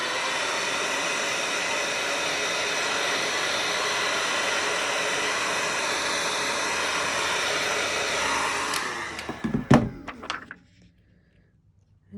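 A heat tool blows steadily while warming hot wax on a paper craft piece, a broadband whooshing drone that runs continuously and then cuts off, followed by a few soft knocks and handling thumps near the end.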